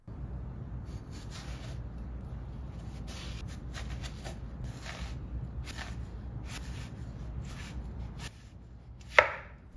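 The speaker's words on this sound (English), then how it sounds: "And here's some more watermelon ASMR." A knife cuts through watermelon on a cutting board in a series of crisp, close chopping strokes over a soft background hum, ending with a sharper scrape as the blade finishes.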